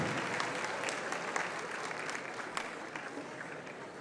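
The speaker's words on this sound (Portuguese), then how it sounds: "Uma salva de palmas para o Captain Ghostly" Sustained applause from an audience at a cosplay group awards ceremony, a dense even wash of many hands clapping throughout, with no talking over it.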